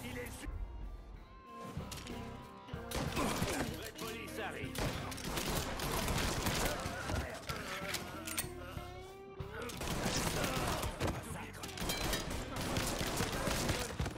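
Dense gunfire from a Mafia 3 shootout crackles almost without pause, bursts and impacts layered over a game soundtrack while someone talks over much of it.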